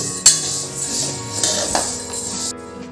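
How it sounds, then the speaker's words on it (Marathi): Urad dal roasting dry in a pan over low heat, with close metallic clinks and scrapes of a utensil against the pan at irregular intervals, no sizzle and no voices. "मंद आचेवर आपण ही डाळ छान लालसर असे भाजून घेऊ"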